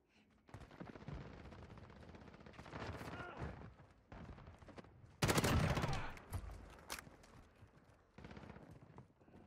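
Gunfire in Call of Duty Modern Warfare multiplayer: repeated bursts of automatic fire crackle at middle distance, with a louder, closer burst midway and scattered shots after it, and players talk over the action.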